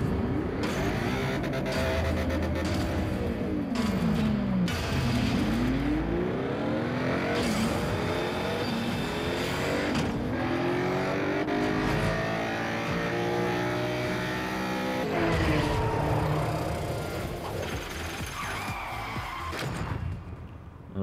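Racing cars in the mobile game Asphalt StreetStorm roar continuously, engines revving up and down in sweeping pitch with shifts and brief skids, loud and close with no talking.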